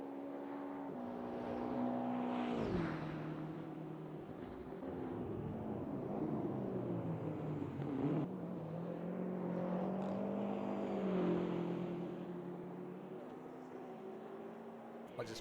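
A race car engine drones and shifts pitch steadily at Bathurst during a 12 Hour race, faint and continuous, with a voice speaking over it.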